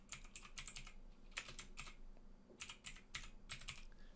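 Rapid keystrokes on a computer keyboard come in close, crisp bursts separated by short pauses, with no voices.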